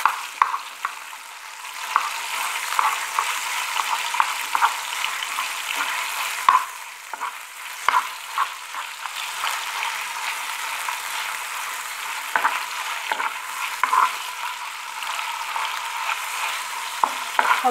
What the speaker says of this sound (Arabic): كنحط الفرخه على الطاسه